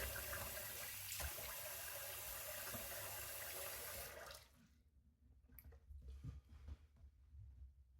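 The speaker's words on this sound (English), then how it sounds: "So we're going to rinse it off now." Water splashes continuously as alum is rinsed off a freshly shaved face at a sink, a steady close rush for about four seconds, then quieter intermittent splashes and drips.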